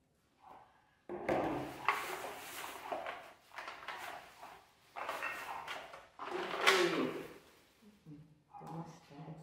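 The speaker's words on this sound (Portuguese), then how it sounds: "Eu tô botando as vasilhas de plástico tudo nessa gaveta ali" Plastic containers are pushed into a kitchen drawer with a series of hollow clatters, knocks and sliding bumps in irregular bursts, close by.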